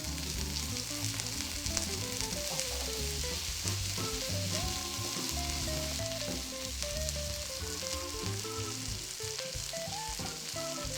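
Burger patties sizzle steadily after being flipped on the cooking surface, a constant crackling hiss lasting throughout, with tonal music playing underneath and no talking.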